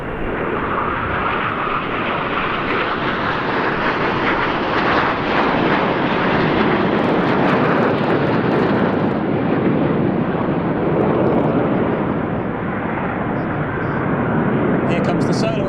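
Frecce Tricolori display jets crossing at the Royal International Air Tattoo 2022, a loud continuous jet roar that swells and holds with wind buffeting and a commentator talking over it.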